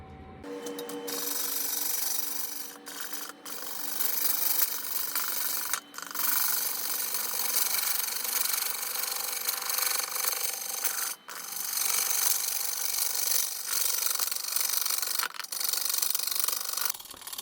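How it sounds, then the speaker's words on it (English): A bowl gouge shears an epoxy-filled wood burl spinning on a lathe, a steady loud rasping scrape with brief gaps where the tool lifts off or meets intermittent cuts. "Bowl gouge seems to be doing a good job. It is getting a little bit dull with the epoxy"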